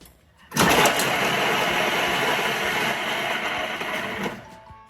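A Thermomix chopping garlic cloves and onion at speed 7, a loud whirring motor roar with blades hammering the pieces, starting abruptly and running steadily for about four seconds before stopping.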